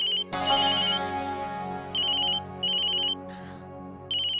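A mobile phone ringtone plays loudly in a home, repeating electronic tone bursts in a steady on-off pattern with short gaps between them, and no voices heard over it.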